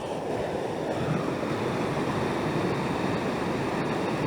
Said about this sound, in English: That's an awful lot of water coming down there out of a mountain.